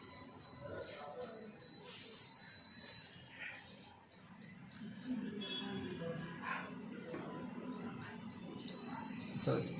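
An optical fiber fusion splicer's heater sounds its alarm once the splice sleeve is joined, a loud steady electronic beep arriving at the end after quiet handling noises and faint background.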